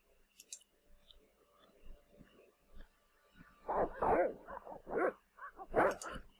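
Dogs barking in the Broken Sword adventure game, a series of bursts that grow louder and denser toward the end, following quieter scattered sounds.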